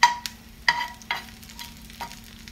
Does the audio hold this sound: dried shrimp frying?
yes